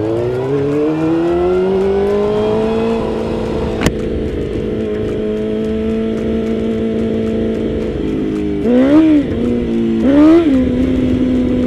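A motorcycle engine idles steadily nearby, then revs twice in quick swelling bursts near the end, loud and continuous throughout.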